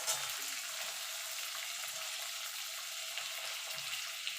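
A small tomato frying and being stirred in hot oil with onion and garlic while making masoor dal, a steady close sizzle with faint stirring throughout.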